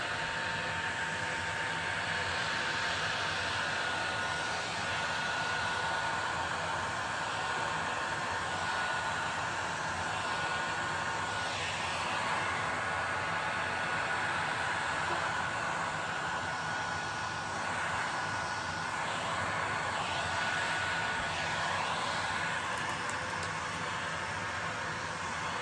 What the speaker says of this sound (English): I think I'm due for a new heat gun, because this doesn't seem to be blowing